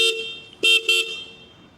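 Three short, bright honks of a motorcycle horn, spaced apart, loud and close, with quiet gaps between them.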